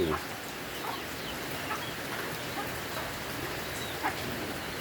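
Steady rain hisses down continuously, with a few faint bird calls poking through now and then.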